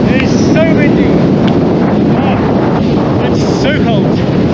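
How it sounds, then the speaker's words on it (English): Strong wind buffets the microphone on the exposed summit of Mount Keen, a Munro reached by gravel bike, roaring continuously and loud, with a few faint high bird-like chirps through it. "It is so windy."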